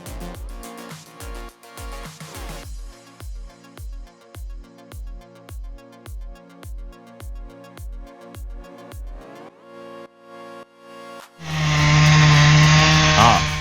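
A big chainsaw cutting into a towering oak stump chugs in a steady rhythm of roughly a dozen evenly spaced revving bursts, then winds up into a loud, sustained full-throttle whine at the end.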